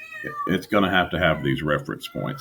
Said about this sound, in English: I apologize for my cat. She's going absolutely nuts in the background.